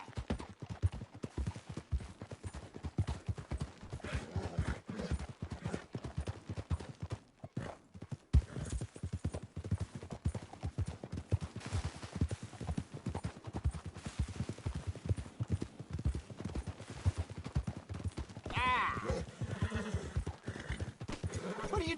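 Video game horse hooves clip-clop in a steady, brisk rhythm close by throughout, with a whinny breaking in near the end.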